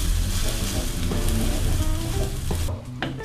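Glass noodles and wood ear mushrooms stir-fried in a hot pan, with a steady close sizzle and scraping stirring, and a few clinks of the utensil near the end.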